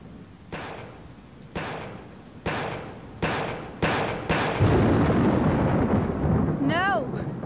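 Video game thunder in Yakuza: a series of six sharp booms at roughly regular intervals, each rolling into a rumble, building into a sustained roar with a brief chirpy tone near the end.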